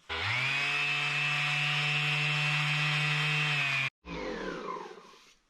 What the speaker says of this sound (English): Orbital sanding machine.